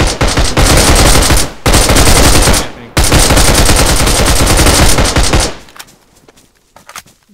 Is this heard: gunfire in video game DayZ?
yes